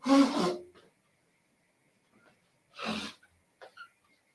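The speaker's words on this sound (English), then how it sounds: "I'm blowing my nose." A person blows their nose in two loud, wet honking bursts separated by a quiet pause, followed by a couple of short sniffs, close to the microphone.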